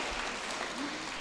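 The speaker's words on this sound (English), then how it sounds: "We're going to clap for Lexi." An audience at a school information night claps steadily in a brief, dense burst of applause.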